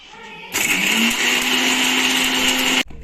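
A mixie grinder whirs loudly and steadily as it grinds fish fry masala paste with turmeric and tamarind water, starting abruptly after a quiet lead-in and cutting off near the end.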